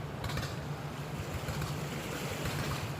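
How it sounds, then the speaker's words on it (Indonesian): A motor boat runs on a river in Aceh, its engine a steady low drone under a broad wash of water and wind, even and unbroken throughout. "transportasi bot mesin"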